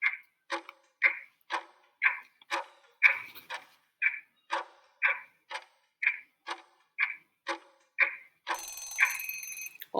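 A quiz countdown timer ticks in a steady, evenly spaced beat of clear clicks, about two per second, ending in a brief burst of ringing alarm.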